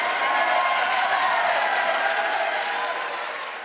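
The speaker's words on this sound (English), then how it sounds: "Give yourself a round of applause." Steady applause from a debate audience fills the room, a dense, even wash of many hands that holds at moderate loudness and fades slightly toward the end.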